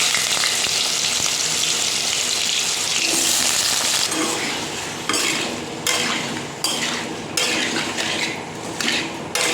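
Papaya and potato pieces dropped into hot oil, a loud, dense frying hiss right up close that settles into steady sizzling with intermittent clinks of a spoon against the pan.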